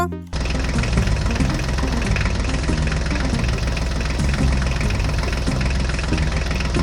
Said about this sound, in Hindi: हमने तो दोनों ट्रैक्टर गाड़ी को रेडी कर दिया